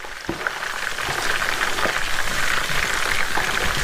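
Steak Diane sauce simmers in a pan with a steady, close bubbling sizzle like light rain, holding at an even loudness throughout.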